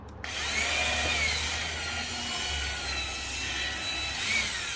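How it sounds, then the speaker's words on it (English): A power drill whines steadily at close range, drilling out metal on a Jeep Gladiator rear fender with a high, sustained shriek that shifts slightly in pitch. "just try and drill it out a little bit more"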